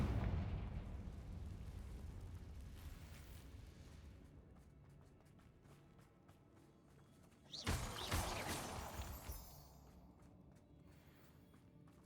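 A Confringo blasting spell in Hogwarts Legacy sets off a sudden fiery burst that rumbles and crackles for a couple of seconds over quiet low game ambience.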